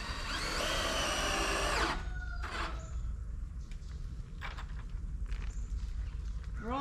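A power drill drives screws while prepping for the first windows on a DIY barndominium build, a steady loud whirring lasting about two seconds, followed by scattered clunks and handling noises nearby.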